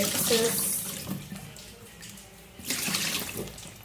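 Tap water runs into a sink while mushrooms are washed, a bright splashing hiss that is loud at first, eases in the middle, then surges again as the stream hits the mushrooms.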